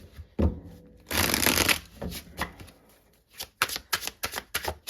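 Tarot cards shuffled for a reading, with a fast riffling burst followed by scattered soft slaps and taps of cards being handled and laid down, close and fairly quiet.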